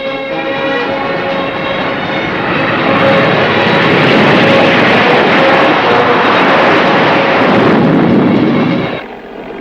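A heavy aircraft on an airstrip roars loudly and steadily with a droning engine tone that builds, holds, then drops off abruptly near the end. No voices are heard.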